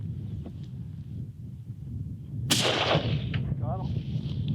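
A single sharp rifle shot during a wolf hunt in the Northwest Territories rings out in open wilderness, a loud close crack with a long fading tail over steady wind noise and faint background rustle.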